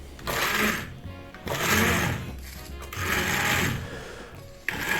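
An immersion blender whirs through cooked prickly pear jam in three long sustained bursts separated by short pauses, fairly loud and close, without voices.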